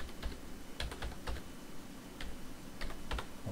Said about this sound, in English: you could just simply type /slideshow